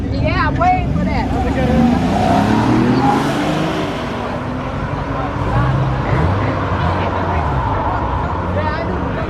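A Ford Mustang and a 3.0T car race past on a street in Mexico, engines roaring loudly and sweeping by with rising and falling pitch, while people talk excitedly over the noise.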